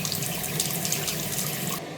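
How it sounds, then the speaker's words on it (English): Water pours steadily from a tap into a bucket as a flow check on a Miele washing machine with an F10 water intake fault. The rush is close, even and unbroken, with no voices. "turn the tap on into a bucket and check the water flow and make sure it is flow strongly"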